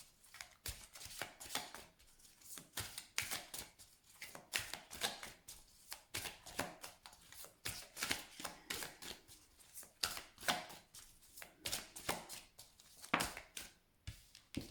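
Tarot cards being shuffled by hand, a soft quick series of riffling and slapping bursts in an irregular rhythm, close and fairly quiet, with no talk.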